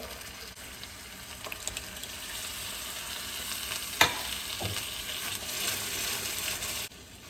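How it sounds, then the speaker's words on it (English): Crushed tomatoes stirred into a simmering ratatouille sauce, giving a continuous wet sizzle and bubbling with soft scraping strokes and a sharp clink near the middle, close and steady with no talk. "I'm stirring this in really well so that that tomato paste gets evenly distributed"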